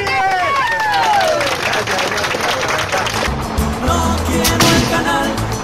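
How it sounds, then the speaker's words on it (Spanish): A crowd at a peasant protest march against a canal law applauds for its leader, loud sustained clapping blended with shouting voices and bustling street noise. "¡Un aplauso para el líder!"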